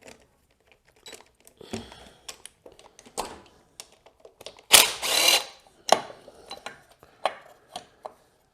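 Ratchet wrench with an 8mm socket loosening the valve cover bolts on a 2002 Honda XR70R, heard as bursts of close metallic clicking and clattering with short pauses between them and a louder rattling burst in the middle.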